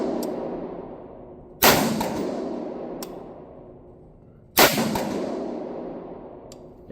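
Two sharp, loud rifle shots from a Cru Arms TEMP556 piston-driven .22 rifle crack out a few seconds apart, each ringing off in a long decay, with a fainter click between them and no talk.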